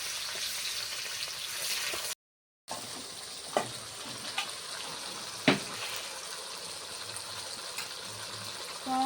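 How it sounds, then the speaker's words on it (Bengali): Bay leaves and onion fry in a pan with a soft continuous sizzle, broken by a brief dropout and a few sharp clicks and scrapes from stirring, faint and close. "তেজপাতা পেঁয়াজ দিলাম, একটু নাড়াচাড়া করে একটু নাড়া"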